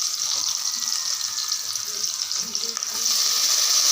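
Country chicken curry base sautéing in oil in a pressure cooker, a dense, loud, steady high sizzle that swells slightly toward the end, heard close and alone.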